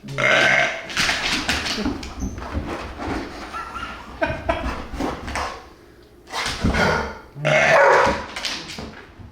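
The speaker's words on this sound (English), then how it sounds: "we got the buck grunt tube, which we're going to use to grunt in a big buck" Several low, throaty buck grunts from a deer grunt tube call come in short bursts with pauses between, loud and close, and a dog's excited yips and barks are mixed in.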